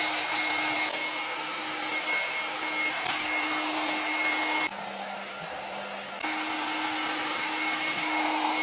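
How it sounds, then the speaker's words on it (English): A Conair Double Ceramic Oval Dryer Brush runs on its high setting with a steady, loud, close airy whir and motor whine. The tone drops and softens briefly midway, then returns to full strength, with no talking. "this is the blow dryer that I normally use. It's the Conair Double Ceramic Oval Dryer Brush, and I usually use it on the high settings"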